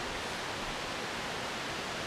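Frostzk Waterfall rushes in a steady, dense roar of falling water, close and unbroken throughout, with no voices over it.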